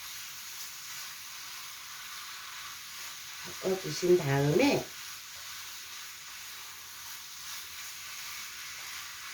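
Squid and fish cake stir-frying in a pan with garlic, a faint continuous sizzle running throughout while a voice speaks briefly in the middle.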